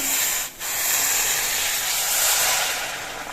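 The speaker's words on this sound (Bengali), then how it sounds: "এবার আমি যে গরম জলটা বসিয়েছিলাম সেই গরম জল দিয়ে ঝোল দিচ্ছি" Hot water poured into a pan of frying spice paste for a fish curry, giving a loud, continuous sizzling hiss of steam with a brief dip near the start before the hiss carries on steadily.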